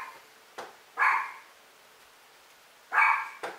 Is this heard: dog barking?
yes